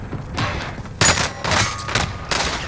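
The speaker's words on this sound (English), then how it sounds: "Taking shots!" Bursts of rifle fire in Call of Duty: Modern Warfare, several sharp, loud volleys in quick succession with brief gaps between them, close and punchy, and no talk heard.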